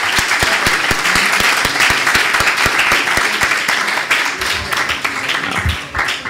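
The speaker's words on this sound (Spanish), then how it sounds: "Un aplauso." A conference audience applauds at the end of a roundtable on direct democracy, a loud, close burst of many sharp hand claps that holds steady for several seconds before thinning out near the end.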